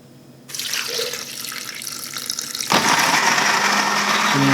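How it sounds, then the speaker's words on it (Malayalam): Water pours steadily from a tap, starting abruptly and rising into a louder, brighter gush as the flow increases, with no talking. "കുറച്ച് വെള്ളം കൂടി ഒഴിക്കാം"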